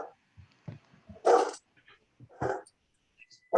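A dog barks during an online meeting, heard through an open microphone: a few short barks with gaps between them, moderately loud, with faint small sounds in between.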